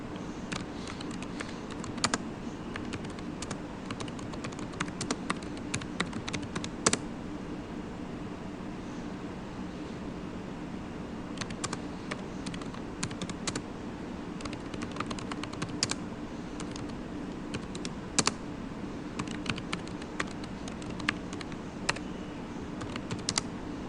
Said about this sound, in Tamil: இப்போ நான் இங்கே உங்களுக்கு டைப் பண்ணி காட்டுறேன்